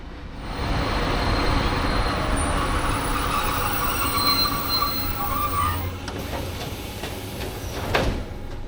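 A Soviet-built commuter train of the Montenegrin railways pulls into Bar station, a loud steady rumble of wheels on rails with squealing brakes that eases off as it slows, followed by a thud and a sliding-door clatter.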